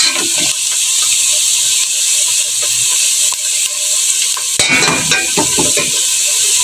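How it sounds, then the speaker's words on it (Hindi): Red chili powder and turmeric masala roasting in a pan for a potato-capsicum dry sabzi, a steady close sizzle and hiss with occasional scraping stirs and a clink of the utensil, no voices. "अब इस मसाले को मैं थोड़ी देर भून लूंगी।"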